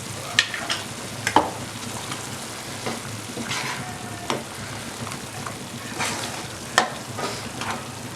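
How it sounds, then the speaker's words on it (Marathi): Kadai paneer gravy, seasoned with salt and a half spoon of sugar, sautés quietly in a pan. A soft, low sizzle is broken by a few sharp clicks and scrapes from the stirring spoon, with no talking. "याला थोडा वेळ चांगला परतून घ्यायचा आहे"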